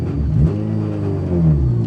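A Nissan Micra fitted with a Hayabusa motorcycle engine revs loudly and close on its first drive, a rising and falling engine note with a second surge near the end.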